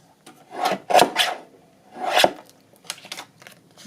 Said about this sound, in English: I think I might trim that edge off, then glue down my little piece